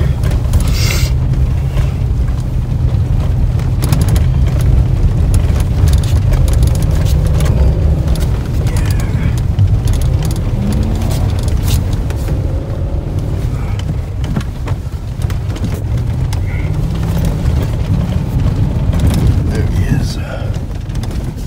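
A Toyota Tundra pickup truck drifts in snow, its engine a loud, continuous low rumble with tire and cabin noise, while voices talk inside the vehicle throughout.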